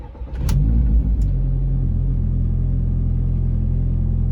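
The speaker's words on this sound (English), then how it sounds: "I'm just gonna do a cold start" A VW MK4 GTI engine fitted with a K04 turbo cold-starts: a brief cranking burst, then it catches and settles into a loud, steady, deep idle rumble close by.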